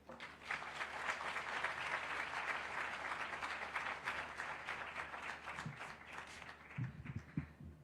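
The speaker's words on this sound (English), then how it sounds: "a Mohatia clap for Mr. Chris Keagiri" An audience applauds at a Google 15th anniversary celebration in Kenya, a sustained round of clapping that stays fairly steady before thinning out toward the end, when a few low voices and bumps come through.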